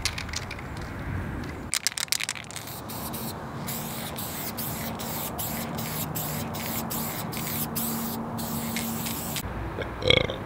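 A long, steady hiss of a spray paint can spraying graffiti paint, running for several seconds and broken by brief stops, with a few clicks near the start.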